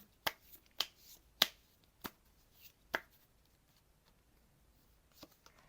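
Tarot cards are shuffled and tapped during a Thai card reading, giving a string of sharp, crisp slaps and clicks spaced irregularly, close and fairly faint, with a short pause near the end.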